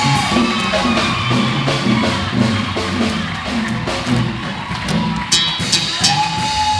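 A church congregation at a worship service for the Lord, cheering, whooping and shouting together over steady music, with a sustained loud crowd roar throughout.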